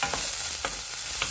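Vegetables stir-fry in a pan with a continuous close sizzle, broken by three soft scraping stirs spaced about half a second apart.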